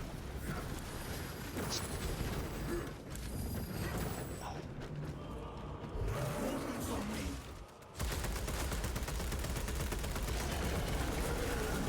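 Rapid gunfire from an Occulus Bolt Carbine in Space Marine 2, on a Vanguard Ruthless Decapitation run, rattles in loud, dense, sustained bursts with battle noise, easing briefly before firing resumes even harder.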